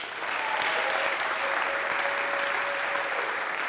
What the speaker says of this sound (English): Everybody clap for Kai really loud.